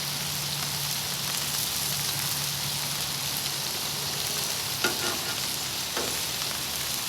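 White Castle style burger sliders cooking on a griddle, a constant dense sizzle like light rain, close and even, with a couple of brief clicks and no talking.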